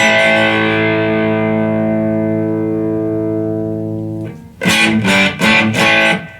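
Electric guitar driven through a Nobles overdrive pedal: a long sustained chord rings out and decays, then a burst of loud, gritty strummed chords in quick choppy rhythm.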